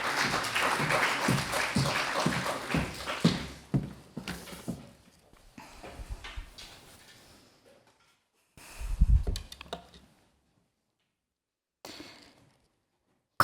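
A burst of audience applause at a French speaking competition, dense rhythmic clapping for a few seconds that fades out, followed by quiet footsteps and small sounds.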